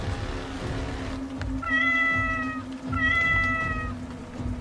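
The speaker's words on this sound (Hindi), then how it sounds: "बिल्ली यहाँ से वहां चलती हुई बोली" A cat meows twice, each a drawn-out, tonal cry, heard fairly close over a low steady hum, with no talking.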